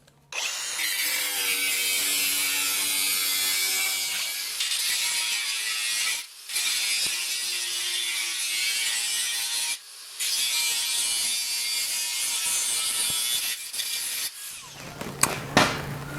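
Metal fender flare piece for a 1959 Renault being cut back to a scribe line, a harsh, continuous rasping cut running loud and close with a few brief pauses, ending in a short clatter.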